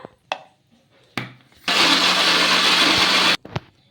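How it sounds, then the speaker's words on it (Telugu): A few clicks and knocks, then a mixer grinder blending radish roars loudly for under two seconds before cutting off, followed by another click. "మిక్సీ జార్లోకి ఎంతైతే పడుతుందో అంత వేసేసుకొని మెత్తగా మిక్సీ అయితే పట్టేసుకుందాం"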